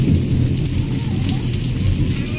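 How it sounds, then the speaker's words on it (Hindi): Heavy rain pours onto surfaces in a village home during a thunderstorm, with low rumbling thunder rolling underneath a dense, continuous hiss, loud and close for a brief moment. "ये किस तरह से एकदम बिजली कड़क रहा है, डर लग रहा है बाप रे बाप"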